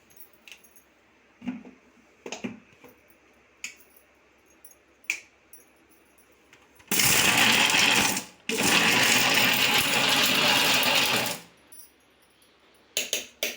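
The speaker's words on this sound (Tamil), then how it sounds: "இந்த மாதிரி நல்லா இன்னும் ஒரு தடவை போட்டு அரைச்சிக்கணும்." A mixer grinder coarsely grinds a spinach and drumstick-leaf mixture in a home kitchen. Two loud, steady whirring bursts are separated by a brief pause, with scattered clicks and knocks before and after.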